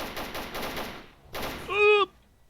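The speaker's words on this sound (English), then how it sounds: "Maybe that's why I'm hearing gunshots in the distance." Bursts of distant automatic gunfire rattle in the survival shooter game Stalker Anomaly, two faint rapid volleys separated by a pause, followed by a short tonal squeal.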